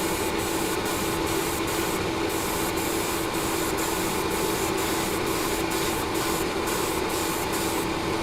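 Vallejo surface primer being sprayed in a steady, continuous hiss with faint periodic pulses, close and alone with no talking.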